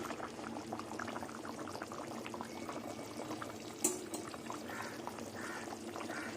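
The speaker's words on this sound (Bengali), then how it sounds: "এবার কিছুক্ষণ ফুটবে" Hilsa fish curry in a mustard and poppy seed sauce simmering in a pan, a faint steady bubbling with a soft liquid texture and one brief clink, no voices.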